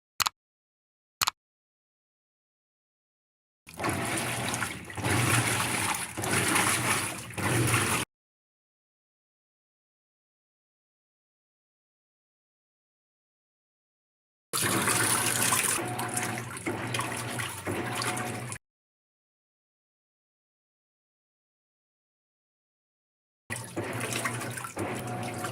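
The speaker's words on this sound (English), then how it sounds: "we're going to wait for the machine to start washing." A Maytag washing machine fills with water and runs its wash step in three separate bursts of steady rushing, splashing water, each lasting a few seconds and separated by long stretches of silence, with two faint clicks at the very start.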